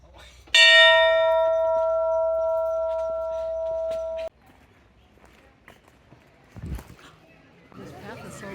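A single bell struck at a proposal spot in Japan rings out loud and clear, then hums steadily as it slowly fades for about four seconds before cutting off. Footsteps and rustling follow.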